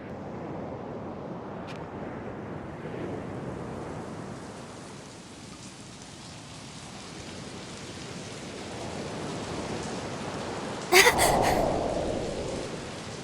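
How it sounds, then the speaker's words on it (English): Steady rain in the Soul Hackers 2 video game, a continuous broadband hiss holding level for the whole stretch, with a brief sharp burst near the end. "just started raining over here"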